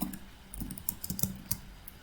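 Close, quick keystrokes on a computer keyboard while a comment is entered, an uneven run of about a dozen crisp clicks and thocks in a quiet room.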